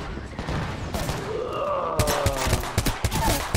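Bursts of automatic gunfire in the Apex Legends shooter game crack out rapidly at close range, mixed with impacts and game effects, while players talk briefly over the shooting.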